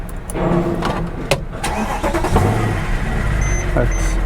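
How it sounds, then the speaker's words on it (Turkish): A car's starter cranks and the engine catches and settles into a running idle, loud and close, with a person talking over it. "Şöyle girip bir marşa basalım."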